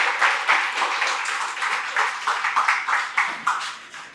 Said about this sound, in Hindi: मैं सचमुच चाहता हूं कि आप लोग दिल से तालियां बजाकर स्वागत करें दो लोगों का